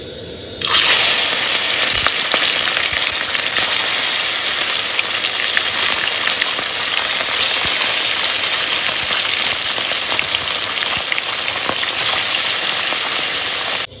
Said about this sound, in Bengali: তেল গরম হয়েছে, আর মাছ ভেজে নেবো।